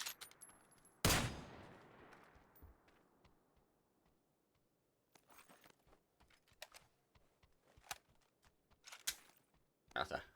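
Distant gunfire in PUBG, with sparse, sharp cracks and short bursts spread irregularly over a quiet background, one louder shot standing out near the start.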